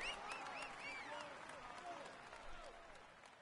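Crowd applause from the Tour de France 16 cycling video game, a steady wash of clapping that holds at an even level throughout, with a voice speaking over it.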